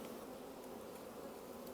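Honeybees swarm around an opened hive being split, their dense, even buzzing filling the air at a soft, steady level with no voices.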